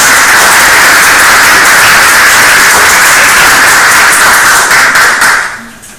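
Applause from a seminar audience in a lecture room, dense loud continuous clapping that holds steady for several seconds, then quickly thins and fades away near the end.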